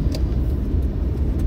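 A 1989 Nissan with power steering drives along, giving a steady low engine and road rumble from inside the car with no talk.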